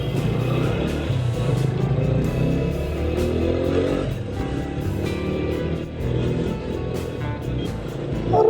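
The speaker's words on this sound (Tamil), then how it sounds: "அதனால் கொஞ்சம் டிராஃபிக்காக இருக்குது ஸ்குவாட்" Dense road traffic on a busy market-day street heard from a moving motorcycle on the ride from Karur to Yercaud, with a steady engine drone, passing vehicles and wind noise loud and continuous throughout, and occasional horn-like tones.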